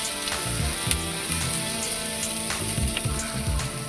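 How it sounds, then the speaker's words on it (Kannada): Onion and tomato roast in a pan, frying with a steady close sizzle and occasional stirring clinks over the crackle, for a simple tomato sambar cooked by a bachelor in a lorry cab. "ಈರುಳ್ಳಿ ಎಲ್ಲ ಚೆನ್ನಾಗಿ ರೋಸ್ಟ್ ಆದಮೇಲೆ ಟೊಮೊಟೊ ರೆಡಿ ಇದೆ, ಟೊಮೊಟೊ ಹಾಕಿ ಚೆನ್ನಾಗಿ ರೋಸ್ಟ್ ಆಗಿದೆ."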